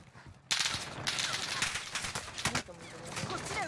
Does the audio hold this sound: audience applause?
no